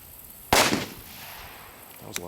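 A single individual firecracker from a firecracker strip goes off with a sharp, loud bang that rings out briefly, followed by a voice speaking.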